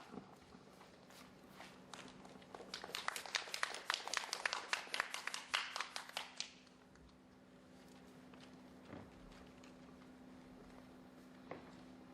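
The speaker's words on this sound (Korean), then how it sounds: "큰 박수로 맞이해주세요." Students at a high school morning assembly clap together in a dense burst that swells for a few seconds and then fades, with a faint room hum and a couple of stray claps afterward.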